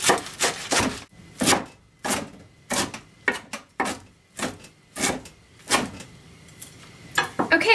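A knife chops raw kale very finely on a board for a kale seaweed salad, sounding as a run of crisp, close, irregular chops with short pauses between bursts.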